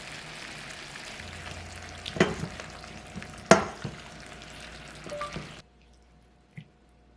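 A spoon stirs and scrapes food in a pan with perilla oil, giving a soft sizzling background, a few sharp clinks and scrapes, then a quiet stretch at the end.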